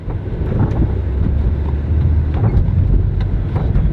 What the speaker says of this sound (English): It's got a lot of miles on it, so you're gonna hear a lot of bumps.